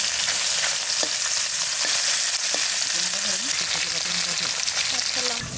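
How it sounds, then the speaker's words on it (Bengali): Spice-coated fish frying in mustard oil, a loud dense close sizzle throughout with scattered pops and crackles and some stirring; faint speech sits underneath. "মাছ ভাজার জন্য সরষের তেল দিয়ে দেবো"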